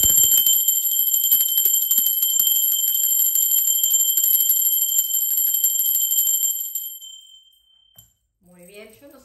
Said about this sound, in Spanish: yo toco 12 veces la campana